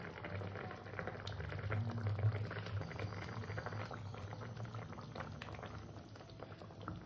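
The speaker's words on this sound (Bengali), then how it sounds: "মাছটা দিয়ে এবং ঝোলটা বেশ খানিক করে ফুটিয়ে নিয়েছি।" Fish curry bubbles in a pot with mustard-poppy paste, a quiet, continuous low burble of boiling liquid with faint clinks in the background.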